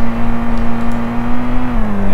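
Car engine in a Unity game built from the standard assets, a steady synthetic hum with one sustained droning tone that dips slightly in pitch near the end, continuous and fairly loud with no talking.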